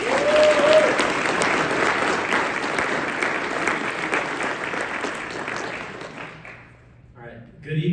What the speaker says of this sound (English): Before I begin, I would like to give a huge round of applause to Ms.